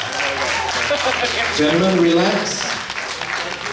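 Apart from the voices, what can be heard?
audience applause at a physique competition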